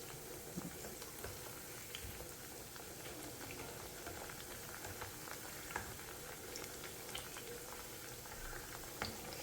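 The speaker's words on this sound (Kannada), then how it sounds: "ಸ್ವಲ್ಪ ಕ್ರಿಸ್ಪಿಯಾಗಿ ಚೆನ್ನಾಗಿ ಫ್ರೈ ಮಾಡ್ಕೋಬೇಕು ನಾವಿದು." Nippattu rice crackers deep-frying in oil over a low flame, a steady dense bubbling and crackling sizzle heard up close with no talk.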